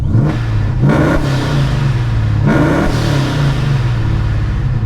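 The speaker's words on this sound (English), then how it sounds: "The sound of a forced induction Hemi is a beautiful sound." Supercharged Hemi V8 in a 2009 Dodge Challenger SRT8 revving through a loud exhaust, a deep steady rumble swelling with several sharp blips and falling back, close and alone with no talk.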